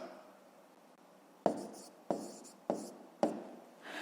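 Handwriting in a notebook during a fifth-grade math exercise, a soft scratchy stroke followed by four sharper pen strokes at a steady pace, close and quiet.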